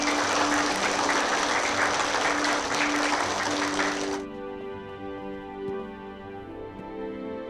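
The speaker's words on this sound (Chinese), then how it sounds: "下面让我们掌声欢迎福海市委林书记为大家讲话。" An indoor audience claps in welcome for Party Secretary Lin of Fuhai, a dense, loud burst of applause that stops abruptly after about four seconds and gives way to quiet tonal music.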